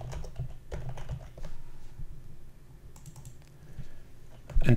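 Steady typing on a computer keyboard, a run of close, quick clicks and taps that go on through the whole stretch with no talk, ending in a couple of louder knocks.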